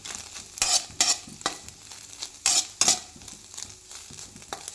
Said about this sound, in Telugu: చూడండి ఎంత బాగా వేగిపోయిందో మన ఎగ్.